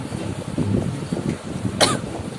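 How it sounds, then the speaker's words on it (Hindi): A single sharp cough from someone with talcum powder up the nose, close and loud near the end, following soft shuffling and murmured sounds. "इतना भर भर के आंटी ने पाउडर लगाया है कि मेरे नाक में चला गया, मुझे खांसी आने लगी"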